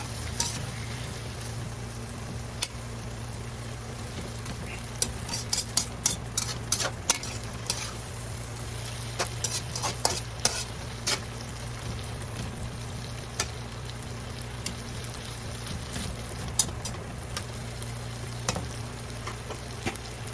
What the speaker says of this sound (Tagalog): durugin natin yung kamatis